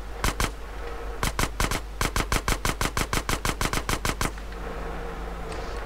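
Rapid bursts of gunfire aimed at a truck's fuel tank in GTA San Andreas, about twenty loud, sharp shots in quick uneven volleys, stopping abruptly before a quieter hum.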